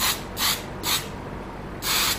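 Three short hissing bursts of an aerosol spray paint can onto a door, then a fourth longer blast, close and fairly loud over a low background hum.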